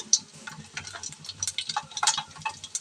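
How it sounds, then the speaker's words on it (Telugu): Mustard seeds and garlic pieces crackling in hot oil, a close run of sharp irregular pops and ticks over a low sizzle. "ఆవాలు బాగా చిట్టపట్టలు అవ్వాలి"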